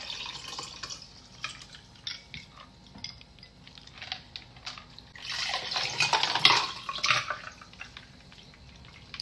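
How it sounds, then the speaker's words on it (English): Homemade mojito cocktail poured into two sugar-rimmed glasses, a light trickling splash with soft clinks that swells into a fuller, louder pour near the end, close by with no voices. "So I'm just going to pour it into 2 glasses."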